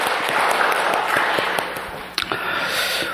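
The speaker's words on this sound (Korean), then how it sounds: "영광의 박수를 주님께 돌리십시다." Applause from a church congregation at a Sunday service, a steady wash of many hands clapping together, filling the room at moderate volume for a few seconds.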